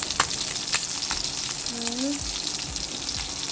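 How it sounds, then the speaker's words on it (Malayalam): Oil sizzles and crackles steadily as fish fries in a pan, a constant close-up hiss with faint clinks and a brief voice. "ഉച്ചയ്ക്കുള്ള മീൻ വറുത്തത് റെഡി ആയിക്കൊണ്ടിരിക്കുക"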